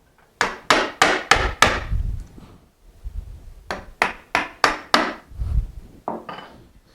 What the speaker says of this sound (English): clean it up with a chisel